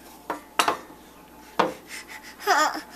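A spoon scrapes and clinks against a pot during home cooking, a few separate rough strokes with short metallic knocks, close and fairly quiet, with a brief squeaky scrape near the end.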